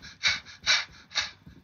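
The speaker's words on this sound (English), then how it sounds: "panting in my ear" A person breathes heavily into a headset microphone during a Call of Duty Warzone match, three strong breathy pants with a softer fourth, close and rhythmic with no talking.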